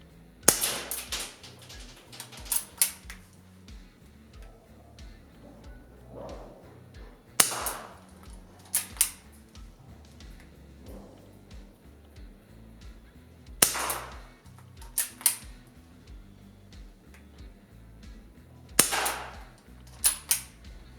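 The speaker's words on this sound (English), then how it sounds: "When it came to shooting it, you can see just how slow this thing is to shoot your next shot." A Chiappa Rhino 60DS CO2 airsoft revolver fires BBs in sharp, loud cracks, with several widely spaced shots and mechanical clicks and clacks of the action in the quiet gaps between them.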